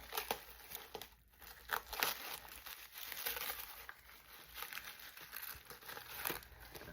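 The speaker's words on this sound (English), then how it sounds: "But I want to get the plastic off of it." Plastic film crinkles and tears as it is peeled off a freshly made resin planter that is still soft. The close, irregular crackling runs steadily for several seconds with no talk.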